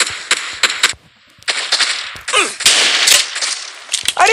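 Shotgun blasts in the video game PUBG, several sharp loud cracks in quick bursts with a brief pause, followed by whizzing, ricocheting game effects, close and punchy with no talk.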